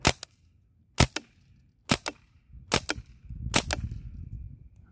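A CO2-powered HK416 replica rifle fires on semi-auto outdoors, giving four sharp, close shots about a second apart, each followed by a quick echo-like second crack, with rising low rumble between the later shots.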